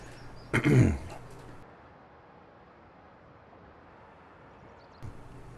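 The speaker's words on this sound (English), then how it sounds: "another one of my coughs" A single short cough close to the mic, followed by a long stretch of quiet room noise and a faint bump near the end.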